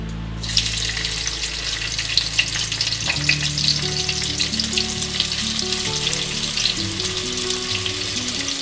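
Sliced onion dropped into hot refined oil in a pan, sizzling and crackling steadily and fairly close, with a low hum from the kitchen running underneath.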